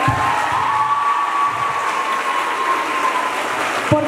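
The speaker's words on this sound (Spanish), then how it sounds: "les podemos dar otro aplauso fuerte" Audience applause for a school orchestra and choir of preschool-education students, steady dense clapping with a faint sustained tone running under it throughout.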